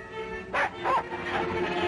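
A dog gives a couple of short, close barks and yips over a hissy, old-sounding background in a 1940 film, with no talking.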